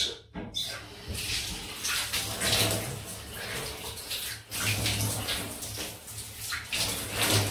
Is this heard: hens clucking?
no